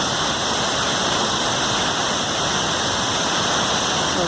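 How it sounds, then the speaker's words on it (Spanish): Waterfall at the Quetzalapan falls, the smaller second cascade, roaring as a dense, steady, broadband rush of falling water, loud and close, with no voices. "Esta es la segunda cascada"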